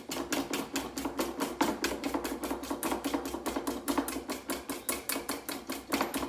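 Wire whisk beating homemade mayonnaise with oil by hand in a bowl: fast, steady, evenly spaced clicking strokes, close and continuous throughout, with no talk.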